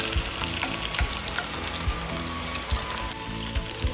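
Chicken sears in a hot pan for a stew, sizzling and crackling loudly up close in a constant fry, with soft periodic taps and pops scattered through and no talk.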